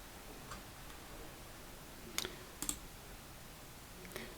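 A few sharp computer mouse clicks, close and fairly quiet, one single then a quick double click and a later lone click over faint room noise.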